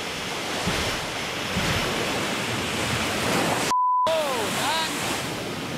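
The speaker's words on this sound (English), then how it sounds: "It's so intimidating being here when the waves are this big." Big ocean waves crash continuously on the shore of a wild island, a loud, broad roar of surf mixed with gusting wind noise, with a brief electronic glitch and tone near the end.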